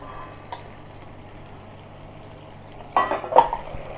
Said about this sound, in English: I'm just gonna add a little bit more bouillon.